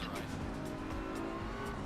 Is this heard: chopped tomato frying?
no